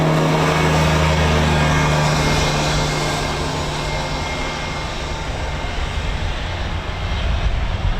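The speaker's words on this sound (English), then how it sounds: "So we've got a Wolfhound starting up by the sounds of it." A C-146 Wolfhound turboprop starting up its engines at RAF Mildenhall on a morning flight line, a loud, steady engine roar with a droning low tone that fades partway through before the noise swells again.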